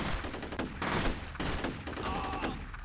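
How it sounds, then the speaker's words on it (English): Dense, continuous gunfire from the first-person shooter F.E.A.R., rapid overlapping shots and bursts filling the whole stretch at a steady, loud level with no speech. "He's shooting me from around the corner"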